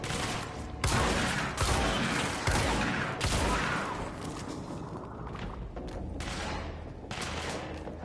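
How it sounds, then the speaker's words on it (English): Gunfire in the video game Control: several loud bursts of shooting that crack in and sustain with a noisy wash, fading into a rumbling background before another burst near the end. "Where are they shooting from?"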